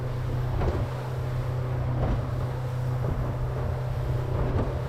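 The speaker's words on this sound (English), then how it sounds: "so much windier here" Strong wind buffets a fishing boat at sea over a reef, with a steady low rumble and continuous gusty noise on the microphone, no voices.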